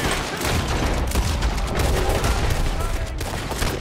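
Rapid gunfire in Red Dead Redemption 2, a dense, loud burst of overlapping shots and booms filling the whole moment without a break, no voices over it.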